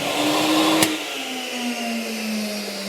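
A central vacuum system runs in a home garage with a steady, loud whirring drone, broken by one sharp click partway through before the motor tone drifts slightly lower.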